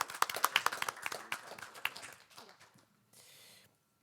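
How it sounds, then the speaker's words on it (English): Applause from the audience at a village board of trustees meeting, a burst of many hands clapping that thins out and fades over a few seconds, followed by a short stretch of soft hiss. "a round of applause for you"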